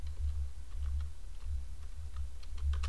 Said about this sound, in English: I'm going to bring my Fibonacci calculator up and type that number in